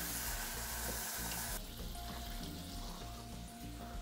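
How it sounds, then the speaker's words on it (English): Broth is poured into a sizzling roux in a pan for a bacon mushroom poutine gravy, a close, steady splashing pour over a frying hiss that eases partway through, with no voices. "start adding in your broth"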